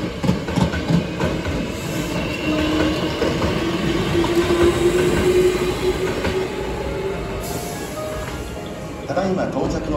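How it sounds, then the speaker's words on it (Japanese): A Hankyu Kobe Line local train bound for Kobe-Sannomiya pulls into a station platform, a steady low rolling rumble with a rising wheel squeal, heard under a spoken platform announcement. "この電車は各駅停車1号線に神戸三宮方面に向かう電車が到着します。"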